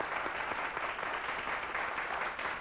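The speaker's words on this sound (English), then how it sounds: "I noticed a little reluctance in the applause for Audrey because of this man sharing." A studio audience on a talk show applauds an arriving guest, an even, continuous patter of many hands clapping at moderate volume.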